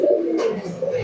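Jack pigeons coo in a short, low, throaty call close by, with one soft burst of noise partway through.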